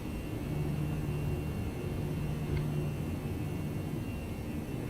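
Airbus A319 jet engines of a Finnair airliner in the X-Plane 11 simulator, climbing after takeoff from London Heathrow: a steady, continuous low roar and hum holding at an even level throughout, with no voices.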